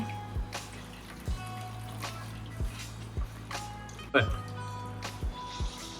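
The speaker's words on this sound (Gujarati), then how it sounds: "આવી રીતે પોટલીવાળી અને બધું જ ખાટું પાણી નિતારી લઈશું" Sour juice squeezed from a cloth bundle of grated raw mango drips into a bowl as repeated separate drops and short trickles, close and soft, while someone talks throughout.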